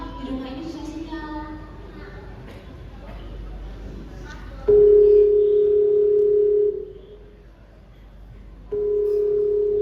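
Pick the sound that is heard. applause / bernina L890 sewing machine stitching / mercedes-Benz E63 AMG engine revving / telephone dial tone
telephone dial tone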